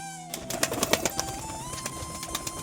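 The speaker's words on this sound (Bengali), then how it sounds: "তো বন্ধুরা চলো পায়রাগুলোকে বাইরে ছেড়ে দিই।" Domestic pigeons, including a green Madras female, coo softly at close range in a home loft. Their low calls mix with a few light clicks and rustles, with no voices.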